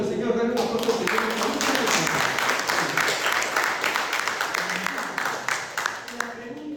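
Hands clap across a church congregation during a sermon service, a broad, fairly even patter that thins into more distinct individual claps toward the end, with a voice briefly heard at the start.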